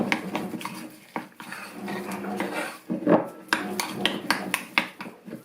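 Sourdough starter being stirred into French and rye flour by hand, with repeated scraping, thudding and sticky rubbing sounds against a bowl, close and fairly quiet.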